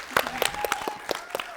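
A studio audience at a televised couples' competition show gives a short burst of scattered, uneven clapping, with a faint voice in the background.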